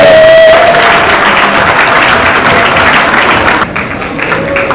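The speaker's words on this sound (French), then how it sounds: "est-ce qu'on peut applaudir très fort s'il vous plaît?" Loud, sustained applause from an audience at a certificate award ceremony in a Kinshasa hotel, dense clapping filling the whole stretch and easing slightly near the end.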